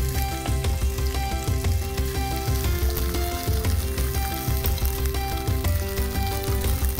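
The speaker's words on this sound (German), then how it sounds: "die Tofu in die Pfanne geben." Tofu slices sizzle and fry steadily in a hot pan for vegan mushroom soup, a loud continuous crackle with no talking.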